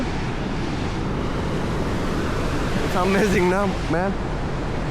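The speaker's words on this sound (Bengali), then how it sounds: "এটা ঝর্নার মতো করে পানি যাচ্ছে আওয়াজ হচ্ছে" Steady rushing water fills the clip, like a small cascade pouring down steps nearby, on the way to Neuschwanstein Castle in Germany, with someone speaking briefly over it toward the end.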